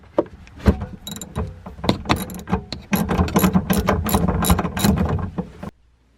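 Ratchet wrench loosening a 13 mm nut on the negative battery terminal of a GM 2.2L Ecotec car, a close, loud run of rapid clicking strokes lasting about six seconds before stopping.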